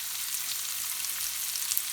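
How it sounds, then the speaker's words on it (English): Onions sweating with a teaspoon of salt in a pan for a quick beef meatball curry, making a soft, even, continuous sizzle that stays faint and steady with no talking. "I'm going to put in a teaspoon of salt to sweat the onions out."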